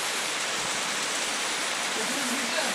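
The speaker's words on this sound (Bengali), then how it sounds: "আবার কিছু জোরে বাতাস হচ্ছে, ঝড় হচ্ছে, দেখেছো বৃষ্টি হচ্ছে।" Heavy monsoon rain and wind in Kerala roar as a steady, dense broadband wash, loud and continuous throughout without a break.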